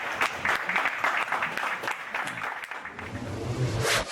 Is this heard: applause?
yes